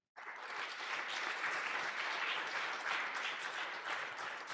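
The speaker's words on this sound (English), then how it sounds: "please another huge round of applause for John." A room of attendees at a network security talk breaks into applause, starting abruptly and holding a full, continuous clapping roar that stays fairly constant to the end.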